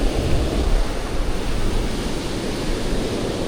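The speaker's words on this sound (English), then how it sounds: "I don't have to yell over the top of the waves" Ocean surf on a beach, a loud continuous roar of breaking waves with wind buffeting the microphone and no voices.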